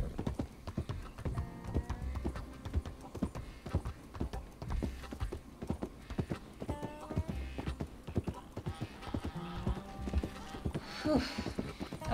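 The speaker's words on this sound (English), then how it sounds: "my horse can't gallop here." A horse walks slowly in a Western roleplay video game, its hooves clip-clopping in a steady, unhurried rhythm with faint background sounds and brief horse noises.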